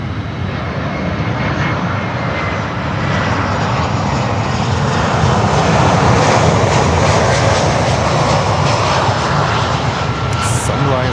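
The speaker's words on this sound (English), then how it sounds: "That's a runway 12 arrival. And I think we have the Sunrise Airlines coming in." Airliner from Sunrise Airlines arriving on runway 12 at an airport, a loud, sustained engine roar that swells steadily as it nears, with voices talking over it.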